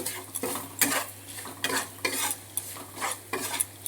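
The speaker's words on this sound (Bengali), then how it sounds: "এবার আমি আর একটুখানি নাড়াচাড়া করে নিচ্ছি" Vegetables with garam masala stirred in a pan with a metal spatula: rhythmic scraping strokes roughly every half second over a soft background sizzle, close and clear.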